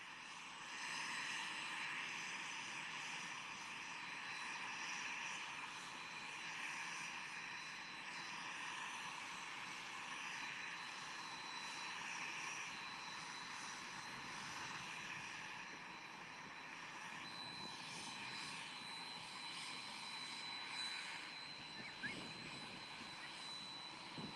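Jet and propeller aircraft arriving at Clark Regional Airport in Kentucky during Kentucky Derby 150 charter traffic, heard as a steady, broad engine roar held at a distance for the whole stretch, with no talk.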